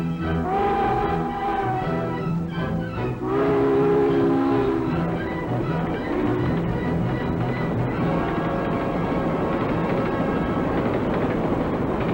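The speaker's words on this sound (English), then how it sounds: "When a train passes" A train rumbles past at close range, a loud continuous roar of wheels and engine that holds steady for several seconds.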